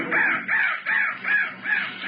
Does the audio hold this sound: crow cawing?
yes